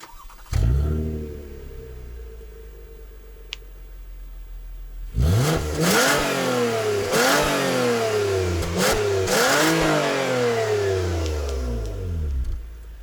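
A 2019 Toyota Avalon Touring V6 with a sport-tuned exhaust starts with a burst and idles, then revs hard several times in quick rising and falling sweeps, loud and close.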